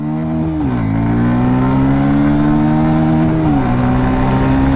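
A loud 125cc motorcycle engine revs hard and steadily climbs in pitch, dropping briefly at gear shifts before pulling up again at full throttle.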